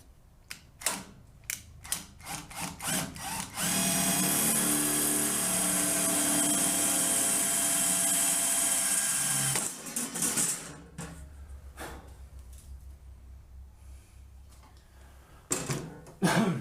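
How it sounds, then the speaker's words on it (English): A power drill whines steadily for several seconds at close range, drilling rivet holes in a 1947 MG TC, bracketed by scattered clicks and handling clatter before and after. "We'll drill a couple of holes here"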